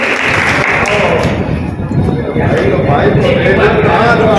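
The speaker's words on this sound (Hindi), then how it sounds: "जोरदार तालियां मांगीलाल जी के लिए।" A crowd at a BJP election rally claps loudly, a dense roar of applause mixed with cheering and murmuring voices.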